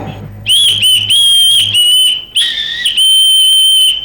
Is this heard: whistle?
yes